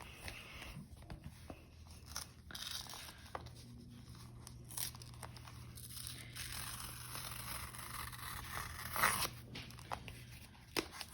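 A sticker kit package is opened up close with soft tearing, crinkling plastic and paper rustles. A faint low hum from laundry machines runs in the background.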